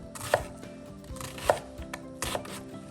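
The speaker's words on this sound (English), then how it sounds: "I'm doing a fine Brunoise chop on the jalapeno" A knife finely chopping a jalapeno into brunoise on a cutting board, three distinct taps at a slow pace with quieter knife sounds between them, close and alone.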